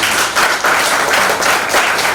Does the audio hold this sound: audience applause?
yes